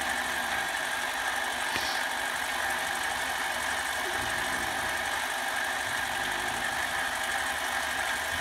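Metal lathe running steadily while the compound wheel is advanced, a continuous mechanical hum with broadband whir and a faint brief tick, moderate and close with no talking.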